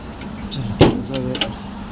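People climb into a car, making a sharp door thud followed by a few softer clunks and rustles nearby, brief and moderately loud.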